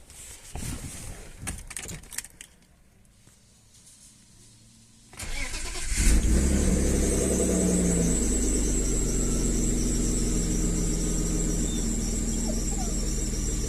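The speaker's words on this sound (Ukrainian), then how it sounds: "Заводимо і йдемо слухати під капот, щоб ніде нічого не травило." A BMW E34 saloon on a gas conversion setup is cranked after some handling clatter and fires into a loud, steady idle, close up with no voices.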